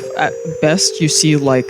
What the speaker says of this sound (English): That is my phone again.